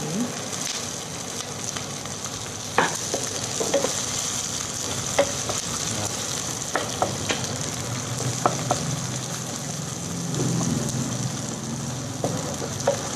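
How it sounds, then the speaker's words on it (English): Garlic, green chili and sliced onions fry in a pan, giving a steady low sizzle with scattered clicks and scrapes of stirring throughout, fairly close and moderate in level. "So now we are adding some Green green chili. chili to it, and the sliced onions."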